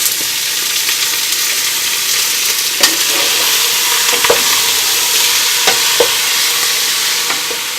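Bottom round beef sears loudly in a pan of hot olive oil, a dense, close, continuous sizzle and crackle with occasional light pops and stirring scrapes.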